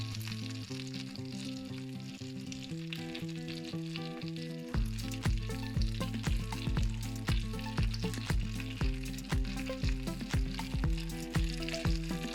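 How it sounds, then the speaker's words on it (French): A ham crêpe frying in hot oil, soft crackling sizzle heard under steady background music with a rhythmic beat. "plongez la crêpe dedans tout doucement. Et vous les faites dorer tout doucement."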